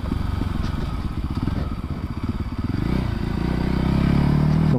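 A Voge 300 Rally motorcycle thrums off-road, its single engine pulsing with a chugging beat and rising in pitch as the rider opens the throttle near the end, with gravel clatter and no voices.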